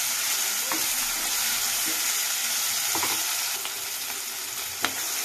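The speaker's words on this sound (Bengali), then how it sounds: "এটাকে আবারও কষাতে থাকবো" Soybean malaikari masala sautéed in a pan, giving a loud steady sizzle close by with occasional scraping stirs, and the hiss drops slightly toward the end; no one speaks.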